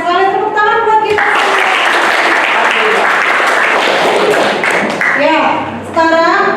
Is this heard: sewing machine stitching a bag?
no